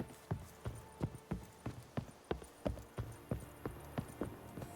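Horse hooves clip-clop at a steady walking rhythm in The Witcher 3, a dozen or so distinct hoof strikes, fairly close, with faint background ambience and no talking.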